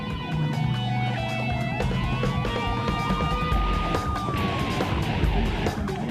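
Police cruiser siren wailing during a car chase, a rising and falling tone that stays loud throughout over engine and road noise as squad cars pursue.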